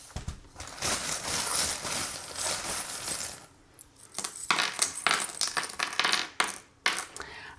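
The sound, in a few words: divination charms being tossed and clinking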